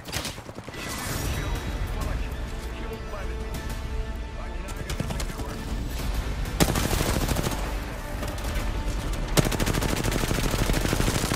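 Rapid gunfire from the battle-royale video game Apex Legends, with dense bursts and sharp repeated shots running throughout over a busy game mix, while players talk over the shooting.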